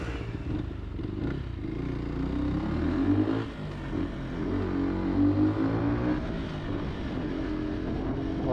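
A car engine gets a pointless blip of the accelerator on a road in the south of France, revving up and settling back down in a steady nearby drone, with no voices present.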